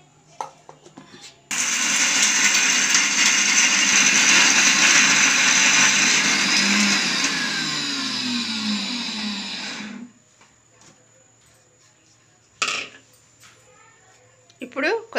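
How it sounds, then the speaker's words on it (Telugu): A kitchen mixer grinder whirs loudly for about eight seconds, grinding groundnut chutney with tamarind, salt and coriander, its steady roar slowly dropping in pitch before it cuts off, followed by short clatters of the jar. "ఇప్పుడు మూత పెట్టుకొని మిక్సీ వేసుకోవాలి."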